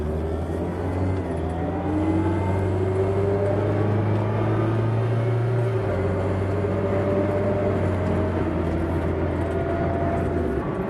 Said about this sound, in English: Let's go give it a little whirl down the road and see what everything's like.